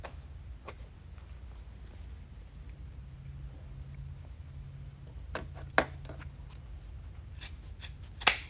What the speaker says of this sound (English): I went through a lot of work to find the perfect pair of scissors.